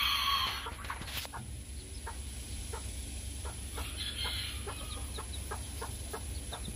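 Chickens cluck softly in a rhythmic series of short calls, somewhat distant, over a steady background hum.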